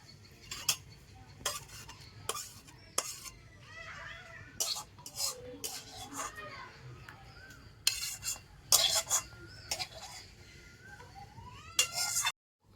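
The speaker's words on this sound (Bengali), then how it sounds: "এবারে হাতার পিছন দিয়ে তো এইভাবে করে আমের পাল্পটাকে বার করে নেব" The back of a ladle presses and scrapes cooked raw mango pulp through a large metal sieve, making repeated close metallic scrapes and clinks in uneven bursts against a quiet kitchen background.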